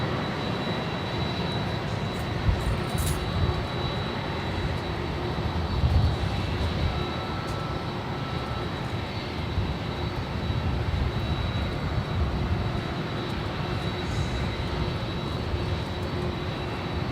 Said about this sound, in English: that is Delta Airlines Flight 323 heading back to JFK in that 767-400ER